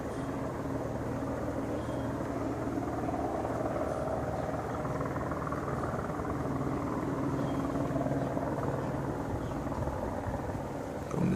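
A news helicopter hovers in place overhead in morning daylight, a steady continuous rotor drone and engine rumble that stays even and fairly loud for the whole stretch with no voices over it.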